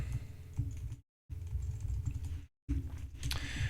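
Fingers type on a computer keyboard while writing C code, a quick run of soft, close clicks in short bursts broken by two brief pauses, with no talking.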